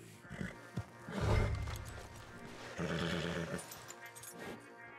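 Horses in Red Dead Redemption II whinny and neigh in several loud bursts, with hoof clip-clops and shuffling between them, close and clear with no talk.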